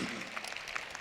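An audience at a Hindi kavi sammelan poetry gathering in Hyderabad claps in a brief, fairly quiet burst of dense, scattered applause that stays even throughout.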